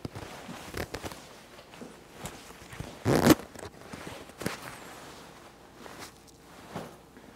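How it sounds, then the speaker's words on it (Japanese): A double zipper on a lightweight Japanese-made jacket is worked in a few quick rasping pulls, one louder burst in the middle, among soft handling rustles and shuffling, with no talking. "ジッパー、ダブルジッパーになってます。"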